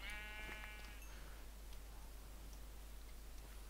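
Sheep bleating in a Minecraft-style blocky video game, a short wavering bleat near the start, fairly faint, followed by quiet game ambience with faint ticking.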